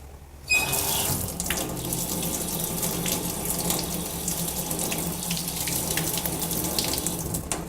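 Steady stream of hot tap water runs into a kitchen sink while a knife is rinsed under it, a continuous close, moderately loud splashing rush that begins abruptly and holds without pause.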